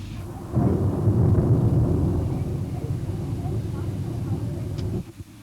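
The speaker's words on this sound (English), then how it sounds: "the natural elements display their power by putting on an exhibition of thunder, lightning and rain" A deep, sustained rumble of thunder rolls over falling rain at Brienz, loud and broad before fading slightly toward the end.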